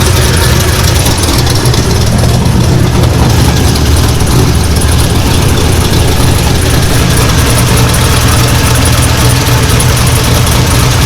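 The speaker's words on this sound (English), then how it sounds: "I don't think you guys have seen the engine running." A C5 Corvette engine idles steadily and loudly up close, a constant low rumble with no revving or breaks.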